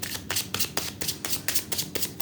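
Tarot cards shuffled by hand in a steady run of crisp riffling bursts, about seven or eight quick flutters at close range with no talking.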